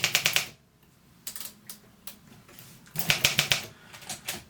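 Keys strike on an Olympia SM7 manual typewriter in quick, crisp bursts of four or five clacks, separated by quieter pauses with a few isolated taps, close up and alone.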